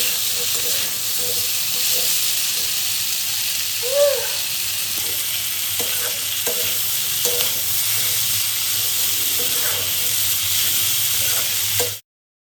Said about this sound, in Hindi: तो उसके बाद मसाले पीस लेंगे और इनको छौंक देते हैं।